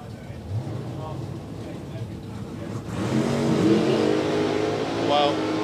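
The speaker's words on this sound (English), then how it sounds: "Mark's got to wait just over a second, and he will set off and chase the Corvette down." Race cars launching and chasing a Corvette at a drag racing event, with a low engine roar that swells and grows louder partway through, mixed with voices talking.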